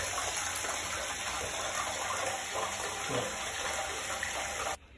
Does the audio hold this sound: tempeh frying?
no